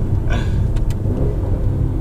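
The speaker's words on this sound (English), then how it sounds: "Oh my gosh, that exhaust." A 2019 Mercedes-AMG GT 63 4-Door accelerating on a winding road, its engine and exhaust giving a loud, steady low rumble from inside the cabin with a couple of brief sharp pops near the middle.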